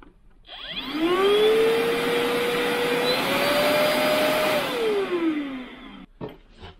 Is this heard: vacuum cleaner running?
yes